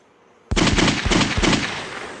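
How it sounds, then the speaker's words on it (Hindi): Sudden loud bursts of rapid automatic gunfire erupt after a brief quiet, a dense rattling volley in close, pulsing clusters. "ऊपर से हेलीकॉप्टर से गोलियां राम रहीम की तरफ बरस पड़ी।"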